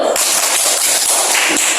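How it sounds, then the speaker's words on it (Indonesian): Children clap their hands together in a church Sunday school class after singing, a dense burst of sharp, overlapping claps that fills the short stretch at a steady loudness. "Tepuk tangan dulu."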